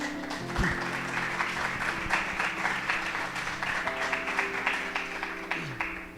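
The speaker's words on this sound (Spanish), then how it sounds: "¿Puede darle un aplauso al Señor por eso?" A church congregation claps during a sermon, a steady moderate patter of many hands under a low hum, with faint tonal background sounds and no clear speech.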